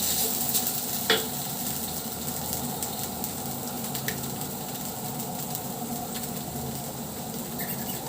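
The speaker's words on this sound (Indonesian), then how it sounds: "ini kita akan tumiskan lagi" Onions and curry spices sautéing for shrimp curry, a continuous close sizzle with light stirring scrapes and occasional soft taps of a utensil against the pan.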